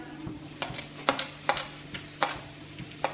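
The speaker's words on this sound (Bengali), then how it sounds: "আদা রসুন কুচিগুলো ভাজা ভাজা হয়ে এলে আমি এবার লঙ্কাগুলো এর মধ্যে অ্যাড করে দেবো" Chopped ginger, garlic and chillies sizzle in butter in a pan over a medium gas flame, with a spoon scraping and stirring in distinct regular strokes, close and alone.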